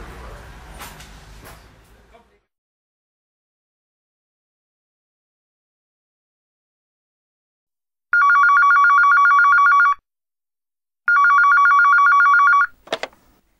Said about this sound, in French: Je suis sûr qu'elle a son portable et qu'elle sera ravie d'appeler Paul.